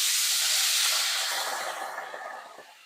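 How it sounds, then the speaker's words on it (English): Steam hisses loudly as water is poured into a hot pan to steam broccolini for a salmon dinner, a broad rushing hiss that slowly fades. "I'm going to steam this broccolini."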